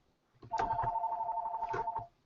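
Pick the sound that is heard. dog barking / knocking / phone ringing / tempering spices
phone ringing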